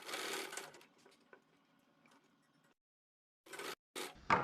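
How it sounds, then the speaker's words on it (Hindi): A sewing machine stitches a sleeve into a ladies' suit, with a loud whirring burst at first, then a quieter pause and more short bursts of stitching, close up. "और अब अपनी सिलाई को कंप्लीट कर देंगे।"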